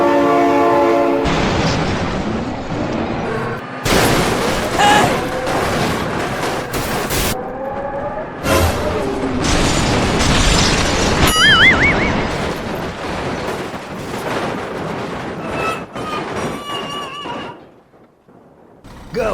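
A train passing with loud horn blasts in the BeamNG.drive driving game, the horn sounding in repeated long tones over heavy rolling rail noise, close and loud, ending with a sudden drop-off.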